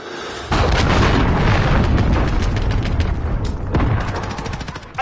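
A missile blast in Call of Duty Modern Warfare: a sudden heavy boom hits at about half a second, then a long, loud rumbling roar of debris and crackle carries on to the end, with a second burst near the four-second mark.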